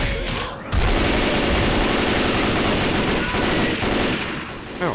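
Rapid gunfire from Left 4 Dead 2 rattles loudly and almost without a break for several seconds, a dense stream of shots with a brief pause near the start.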